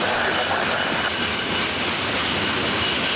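Freight train carrying steel coils passes on the Chicago Line, a loud, dense, continuous rumble and rail roar with no breaks and no voices.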